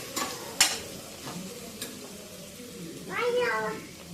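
Biryani cooks in a pot in a Coimbatore home kitchen, with a few scraping stirs and a faint sizzle, close and quiet, and a voice heard briefly near the end.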